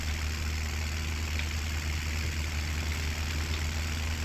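Steady low idle of a green tractor engine in the video game Farming Simulator 17, a continuous droning hum with no speech over it.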